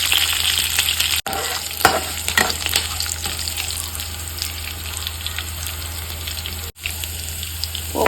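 Curry leaves and asafoetida fry in hot oil for vegetable sambar, a steady close sizzle and crackle with stirring scrapes and brief watery splashes, no voices.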